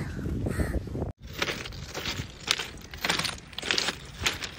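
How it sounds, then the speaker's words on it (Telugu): Crows caw over and over in an irregular series of harsh calls outdoors, with a faint voice at the very start. "కావు కావు అంటుంది."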